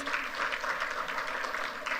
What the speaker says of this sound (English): Another round of applause for our debaters.